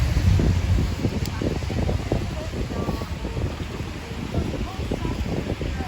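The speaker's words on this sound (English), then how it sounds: "There's a pretty strong wind at the moment, having to grip the umbrella quite tightly." Strong gusty wind outdoors on a street in Muswell Hill buffets the microphone with a constant low rumble, while someone talks underneath.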